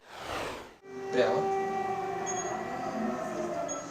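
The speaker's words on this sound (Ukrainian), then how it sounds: "Сирина лунає під час прийому пацієнтки." Air raid siren wailing in Dnipro during a patient appointment, a steady sustained tone rising after a short break and holding loud and continuous over background noise.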